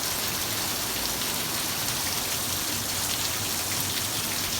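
Steady rain falls during a summer storm in the Mojave Desert, a dense, even hiss of drops pattering on surfaces, close and continuous with no voices.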